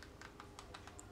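Fingers tap the keys of an I8 mini wireless keyboard in a quick series of about seven light clicks, faint and close, over a low steady background hum.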